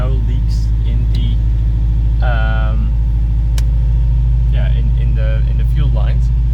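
An old Saab 96 barn find runs steadily after a cold start, its engine a constant low drone throughout with faint voices talking over it.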